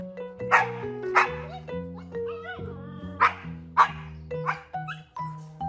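A dog barks, yips and whines in an irregular run of short, close calls, some rising into talky, whimpering tones.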